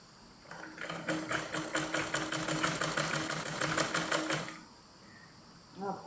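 A sewing machine stitches cloth with contrasting-colour thread in one steady run of rapid, evenly spaced needle strokes lasting a few seconds, close and moderately loud, then stops into quiet.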